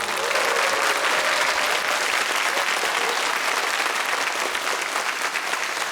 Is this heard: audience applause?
yes